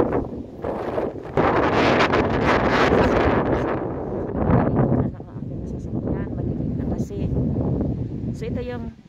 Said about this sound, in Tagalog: Ang hangin yan. Sobra.